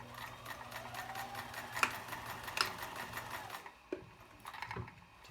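Kenmore zig-zag free arm sewing machine running a straight stitch and reversing, a steady rapid mechanical clatter with a couple of louder clunks and a brief pause near the end, close by and without talk.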